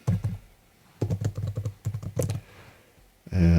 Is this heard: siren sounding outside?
no